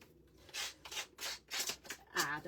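Sharp scissors snip through paper for scrapbooking in a run of five quick, crisp cuts, close to the microphone, with quiet gaps between strokes.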